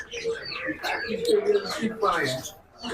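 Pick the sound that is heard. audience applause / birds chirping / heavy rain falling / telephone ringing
birds chirping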